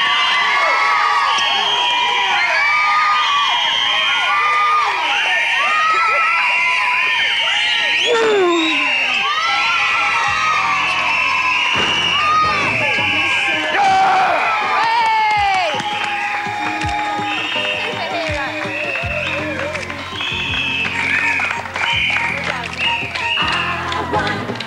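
The young studio crowd of the 1988 TV show Motormouth keeps up a long, loud stretch of cheering, shrieking and whooping, mixed with some clapping. Voices talk over the noise throughout.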